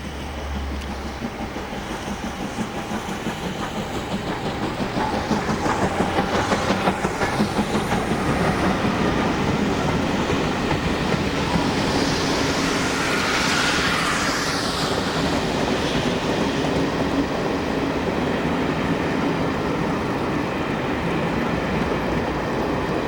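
Southern Railway U-Class steam locomotive 31625 hauls a rail tour train past a junction, a loud continuous rumble with rhythmic clickety-clack of wheels on rail joints building as it nears and passes.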